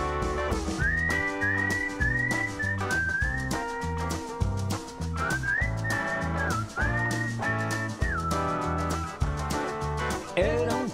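A lively whistled melody rises and glides over a Spanish-language song's band backing of bass and rhythmic percussion. The whistle is up front and continuous, with short pauses between phrases.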